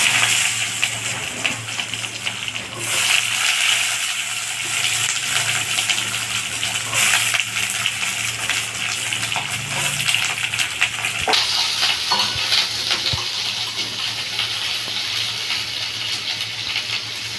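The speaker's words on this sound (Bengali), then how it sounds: "আমি এটা ভেজে নেব।" Cut potato and eggplant frying in oil in a pan with dry red chilli and black cumin tempering, a steady loud sizzle and crackle running throughout, with occasional clinks of a utensil.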